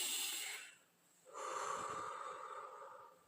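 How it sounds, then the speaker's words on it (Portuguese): A single deep inhale drawn sharply through the nose during a calming breathing exercise for fear and anxiety, a close, loud sniffing rush after a brief pause, then a long steady airflow that tapers off. "Puxa o ar"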